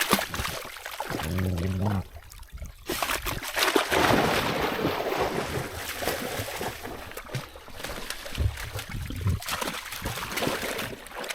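Water trickling in a woodland stream, a steady broadband wash running throughout at close to moderate range, with brief voiced sounds near the start and a few knocks and rustles mixed in.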